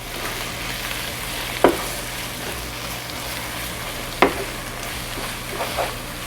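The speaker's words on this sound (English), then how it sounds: "Now a tablespoon of granulated garlic. I stir that in." A spoon stirs onions with granulated garlic in a pot for French onion soup, with a soft steady sizzle and two or three sharp scrapes or knocks against the pot.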